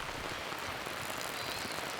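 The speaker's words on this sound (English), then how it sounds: "Rained all night. I think it's gonna rain all day." Steady rain falls outdoors in Haida Gwaii, British Columbia, a soft, even hiss with no other sounds over it.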